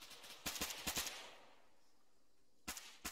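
Bursts of automatic rifle fire from a squad laying down a base of fire in ArmA 3 night operations: a rapid volley of sharp shots, a pause, then two more short bursts near the end.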